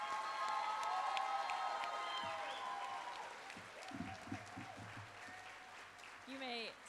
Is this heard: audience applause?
yes